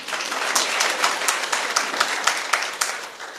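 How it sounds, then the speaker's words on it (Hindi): An audience at a talk claps for a speaker, a dense run of hand claps with sharp individual slaps standing out, fairly close and steady throughout. "सर के लिए तालियां बजा दो यार"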